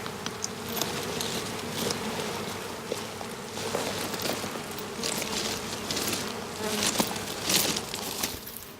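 Bees buzzing in a busy swarm, a dense continuous hum with individual insects droning past close to the microphone.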